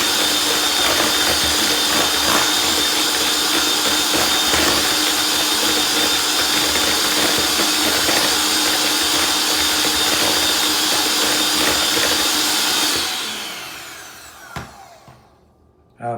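Electric mixer beating an egg yolk into sugar-cinnamon biscotti dough, a loud steady whir that runs unbroken for about thirteen seconds, then cuts off and leaves a few small clicks.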